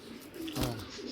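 A racing pigeon gives a single soft, low coo close by, brief and rounded against a quiet background.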